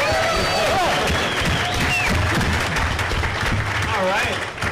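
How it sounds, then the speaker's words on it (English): An audience at the Star Wars Hasbro panel at San Diego Comic-Con 2015 breaks into dense applause with scattered cheers, while voices carry over the clapping. "Let's clap."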